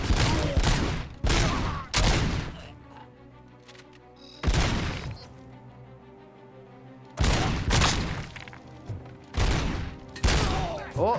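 Loud bursts of gunfire from the video game RoboCop: Rogue City, in several separate volleys with quieter gaps of game ambience between them.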